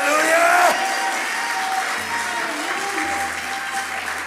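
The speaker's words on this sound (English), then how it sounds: "clap and give God the glory one more time" Church congregation applauding and cheering in praise, a dense sustained wash of clapping that is loudest at the start and stays steady throughout, with faint voices mixed in.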